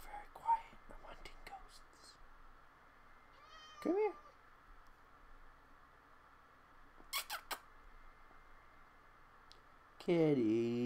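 A Minecraft cat gives a few short meows scattered among soft in-game clicks and squeaks, with quiet speech between them and a louder burst near the end.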